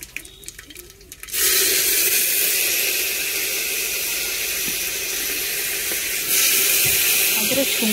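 Spices and garlic tempered in hot oil in a village Odia kitchen give a sudden loud, steady sizzle and hiss that starts after a quiet second, runs on and swells again near the end, with faint voices underneath.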